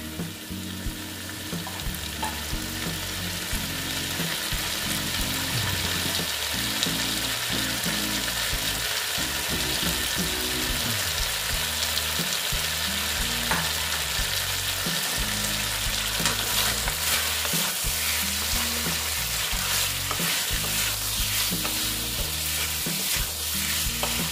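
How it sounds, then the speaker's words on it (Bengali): Potatoes for vegetarian aloo dum are stir-fried in a pan over raised heat, giving a steady loud sizzle with busy scraping and stirring strokes throughout, close up, with no talk. "স্টিমটা বাড়িয়ে দিলাম, এবার আমি একটু কষিয়ে নিচ্ছি।"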